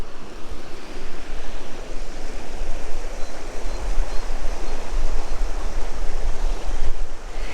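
Water rushes steadily beneath a crossing near Hampi, a continuous close hiss and churn mixed with buffeting wind on the microphone, with no pause over several seconds.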